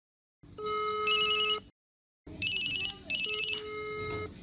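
An outgoing call rings on a Zeblaze Blitz Android smartwatch phone: two bursts of electronic ringback tone, close and clear, separated by a short silent gap, with no talking.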